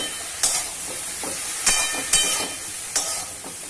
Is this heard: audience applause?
no